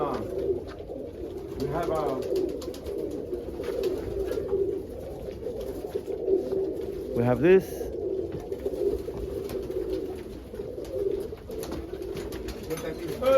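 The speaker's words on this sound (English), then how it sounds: "Look at these birds, go!" Pigeons or doves cooing steadily close by throughout, a soft continuous murmur from several birds, with a person talking over them and a short rising call near the middle.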